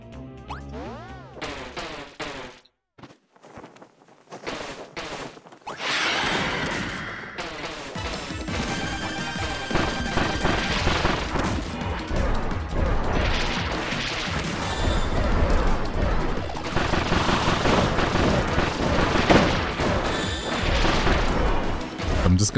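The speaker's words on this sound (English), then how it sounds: "I didn't notice I was taking damage from those explosions." Explosions and impacts from the video game Kirby's Return to Dreamland Deluxe, repeated crashes and booms mixed into busy game music and effects, loud and dense throughout.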